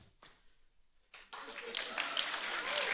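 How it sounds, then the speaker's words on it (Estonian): Audience applause at a Baptist church festival, starting faintly and then swelling into steady clapping across the hall after a brief quiet spell. "ma tunnen, et see väärib aplausi"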